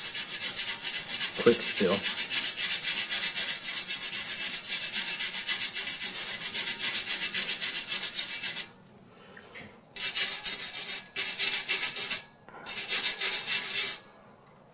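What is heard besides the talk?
wire brush scrubbing to clean around a hole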